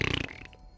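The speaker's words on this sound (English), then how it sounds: "Lick his nose and make fart noises at him" A short, buzzy fart-like noise sputters in a rapid pulsing rattle for about a quarter second, then trails off into near silence, aimed at a character in an Agatha Christie video game.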